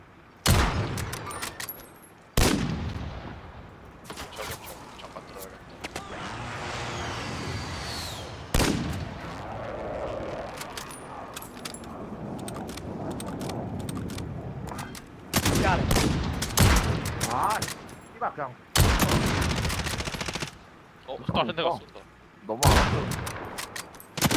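Call of Duty Warzone battle with bursts of gunfire and heavy airstrike explosions, loud repeated blasts and rattling shots spread across the scene, with players talking between them.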